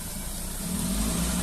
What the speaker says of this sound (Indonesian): Om mundurin ya mobil ya, ke situ ya.